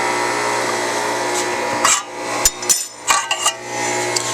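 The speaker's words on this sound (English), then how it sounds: "I'm just punching them because I'm too lazy to drill holes anymore" Sharp metallic bangs and clanks of half-inch holes being punched in sheet metal for an oil tank panel, a few irregular hits over a low steady hum.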